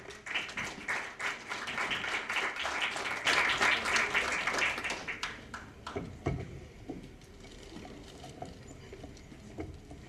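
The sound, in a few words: audience applause welcoming a speaker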